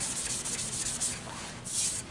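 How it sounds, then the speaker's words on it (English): Abrasive paper rubbing steadily against a turned wooden bud vase, giving a continuous close, hissing scratch with slight swells in intensity and no pauses. "Same thing as sanding."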